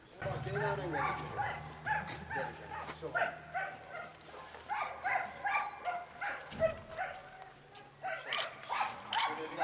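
Dogs bark and yip repeatedly in short bursts amid a busy outdoor scene, with people talking over them.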